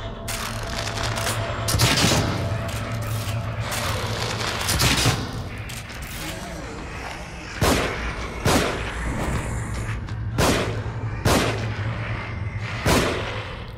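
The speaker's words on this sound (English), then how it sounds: "I'm gonna get my shotgun ready." In the horror game The Evil Within, heavy shotgun blasts boom over a constant low game rumble, loud and close, as several irregular single shots spread across the stretch, some coming in quick pairs.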